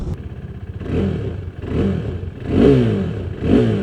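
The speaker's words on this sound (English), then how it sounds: "It sounds like a bloody motorcycle, man." A throaty 2017 KTM RC 390 motorcycle engine revs up repeatedly in surging pulses, loud and close, rising and falling about four times with no talk.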